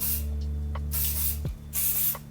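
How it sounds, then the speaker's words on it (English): Hairspray from an aerosol can hits straightened hair in a few close, loud hissing bursts. A low steady hum runs underneath. "And one more hairspray."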